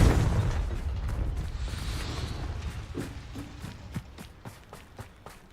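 A Confringo fire spell bursting in Hogwarts Legacy: a loud explosive blast that rolls off into rumbling debris, followed by a string of fainter pops and crackles trailing away.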